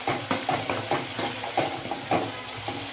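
A spoon stirs garlic, onion and everyday spices, coriander-cumin powder and turmeric among them, as they fry in a pan for brinjal oro. Repeated scraping strokes in an uneven rhythm sit over a soft, steady sizzle, close and moderately loud.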